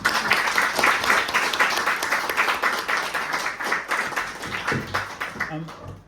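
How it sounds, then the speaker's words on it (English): Applause from an audience at a group show, loud, dense clapping from many hands that carries on steadily and then tapers off near the end, with a faint voice rising as it fades. "Another round of applause, I think."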